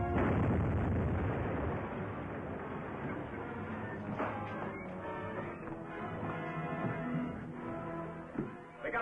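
A liquid air freezer on a ship blows up with a loud rumbling blast that settles into a long, crackling, roaring decay as debris and echoes fade out.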